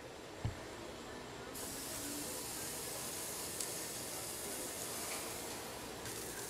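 Grease sizzling on a hot griddle while cooking a bacon-wrapped lobster burger, a steady close hiss with soft crackles and a couple of faint clicks, no talk.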